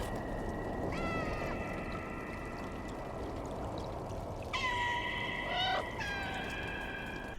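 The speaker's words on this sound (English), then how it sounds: "you can also hear the mews of the other cats calling for it" Several cats in the video game Stray meow in long, tonal, plaintive calls, one near the start and two louder overlapping ones later, over a soft ambient background.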